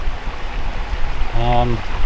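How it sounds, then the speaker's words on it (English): Shallow water of the Vire river ripples and rushes steadily over stones, loud and close, while someone speaks briefly over it. "In the summer there's only a couple of inches of water, but it's officially a category 1 stream"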